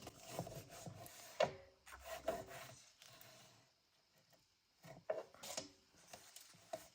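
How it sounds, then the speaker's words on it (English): Folded paper pages for a glued-spine booklet are burnished by hand, giving short, irregular bursts of dry scraping and rubbing with brief pauses between them, close up and fairly quiet. "You can burnish it."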